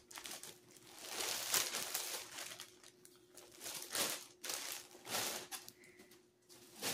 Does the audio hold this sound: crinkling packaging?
yes